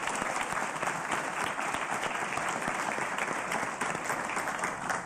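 Town hall audience applauding to vote yes on a question, a dense, steady wash of many hands clapping that fills the room without a break, with no talking over it.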